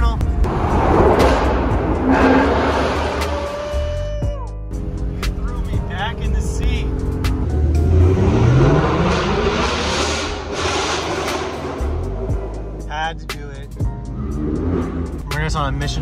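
A Ford Mustang's engine revs and rises in pitch as it accelerates through a tunnel near Lake Tahoe, loud and echoing, with other traffic around and a voice speaking over it.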